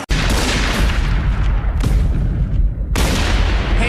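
Gunfire and booming blasts from the shooter video game 50 Cent Bulletproof, loud rapid bursts with a couple of sharp breaks between volleys.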